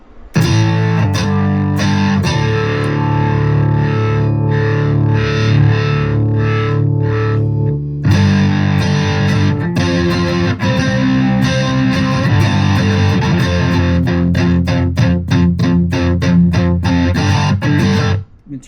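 Electric guitar through a Blues Driver overdrive pedal on a modeler, played in a punk style: loud, distorted chords with sustained ringing passages, then fast choppy palm-muted strums toward the end, heard alone without talk.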